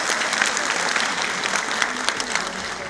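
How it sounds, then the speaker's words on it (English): Audience applause for Chandigarh Mayor Poonam Sharma at an annual function, a steady, dense clapping from a large crowd, loud and continuous throughout. "Give her a big round of applause."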